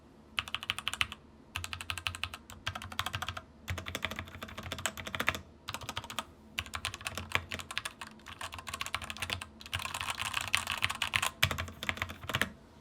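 Close, steady typing on a budget $39 mechanical keyboard with red switches: bursts of rapid soft key clacks broken by short pauses, with no talking.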